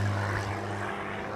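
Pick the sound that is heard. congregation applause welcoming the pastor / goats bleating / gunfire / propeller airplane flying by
propeller airplane flying by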